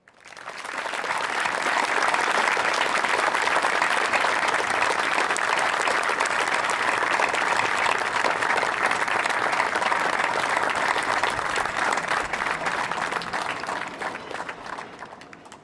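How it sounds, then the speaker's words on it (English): Sustained, dense applause from a large audience fills a fire academy graduation ceremony at Rio Hondo College, holding steady and loud for about fifteen seconds before tapering slightly. "please join me with a round of applause"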